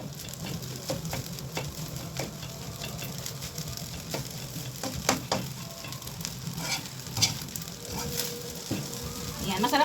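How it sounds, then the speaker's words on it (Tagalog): Egg is stirred into curry fried rice in a hot pan, a steady sizzle broken by scraping and tapping strokes of the spatula, while a voice speaks at intervals. "So, ihalo na natin itong itlog guys para magkalasa rin siya."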